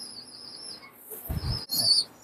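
Teddy pigeons in a loft give soft calls and chirps, with a short low, breathy rumble in the middle and high thin tones running throughout, fairly quiet and close.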